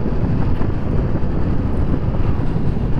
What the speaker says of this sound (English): a little bit breezy actually out here today